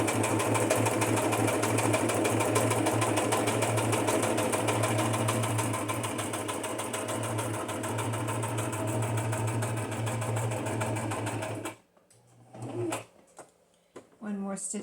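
A sewing machine stitches through a cardstock junk-journal cover, running as a continuous close motor hum with fast, even needle ticking for about twelve seconds before stopping abruptly, followed by a few small handling sounds.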